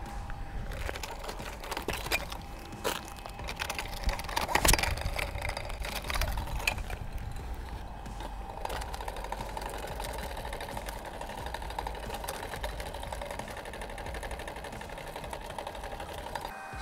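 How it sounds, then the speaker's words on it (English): The small motor of a homemade electric unicycle with faulty wiring connections runs roughly, giving a close, uneven mechanical buzz and whir with irregular clattering bursts and a sustained whine later on. "Definitely wrong with the connections of the motor. It doesn't run at all smoothly"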